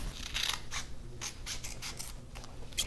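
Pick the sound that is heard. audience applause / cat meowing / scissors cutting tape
scissors cutting tape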